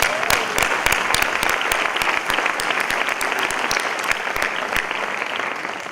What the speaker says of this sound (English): Clap of hands.